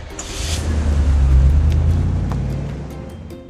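A drop side truck engine in a truck driving video game swells in a smooth, loud drone, rising and then fading slightly over a few seconds, with no talking.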